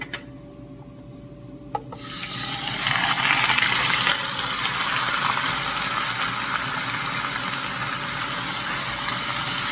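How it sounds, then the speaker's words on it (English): Chicken meat dropped into a hot non-stick wok for a Filipino chicken curry, a loud hissing sizzle that starts abruptly and stays steady and close. "I think the wok is hot enough to put the meat now"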